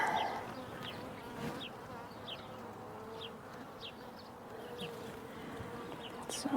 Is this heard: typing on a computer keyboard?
no